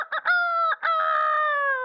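A rooster crows close and loud, a short clipped lead-in followed by a long drawn-out cock-a-doodle-doo call, alone with no other sounds.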